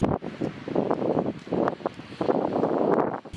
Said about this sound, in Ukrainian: Вітер тріпоче державний стяг.